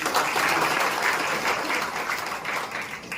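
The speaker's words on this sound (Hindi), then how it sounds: "तो अपने लिए ताली बजा लीजिए" Audience clapping steadily at a ministerial public meeting in Lakhisarai district, a dense, continuous round of applause that stays loud throughout with no voices over it.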